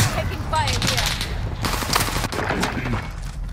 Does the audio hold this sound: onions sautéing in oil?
no